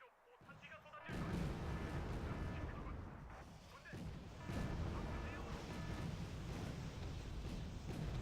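Artillery firing smoke shells in the war strategy game Wargame: Red Dragon, a Second Korean War campaign, makes a continuous heavy roar of repeated distant booms that swells loudly after a quiet start and keeps rumbling throughout.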